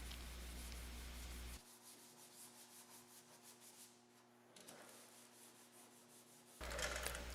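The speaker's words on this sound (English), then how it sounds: "Wet sand with the supplied 1000 grit sandpaper." Wet sanding a car headlight lens by hand with 1000 grit sandpaper, a soft steady rubbing scrape at close range, quiet and continuous with brief louder moments at the start and end.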